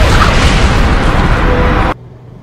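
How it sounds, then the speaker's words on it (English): A loud, broadband roaring blast fills the air for about two seconds, then cuts off abruptly into near silence. "did Drake die in the explosion?"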